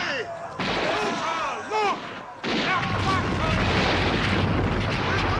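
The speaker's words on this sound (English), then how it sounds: "explosion!" A battlefield explosion in the 1970 war film Waterloo hits suddenly and loudly partway through, then rolls into a sustained, heavy rumble of battle noise over a busy soundtrack.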